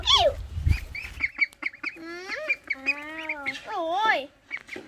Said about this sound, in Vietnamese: Vịt cũng vào ăn luôn.